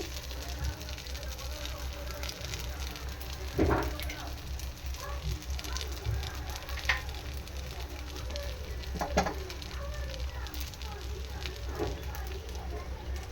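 Ragi flour bandhu dosa frying in a hot pan gives a faint, steady sizzle with soft crackles and a few louder pops, while a person talks quietly over it.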